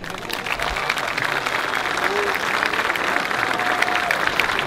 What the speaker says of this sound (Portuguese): E por isso gostava que me dessem uma forte salva de palmas.